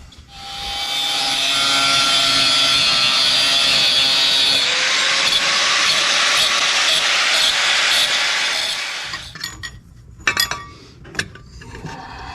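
A power tool cutting excess material off an LS swap intake tube, a loud steady whine and grind held for about nine seconds, then stopping and followed by a few close clunks and handling knocks.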